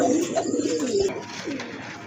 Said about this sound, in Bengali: ডাকতেই আছে সেই প্রথম থেকে ডাকতেছে কবুতরটা